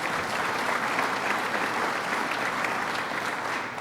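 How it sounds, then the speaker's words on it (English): A crowd applauds steadily at a Syracuse Dirt Week announcement, a dense wash of clapping that holds at an even level throughout before easing slightly at the close. "Let's give him a round of applause."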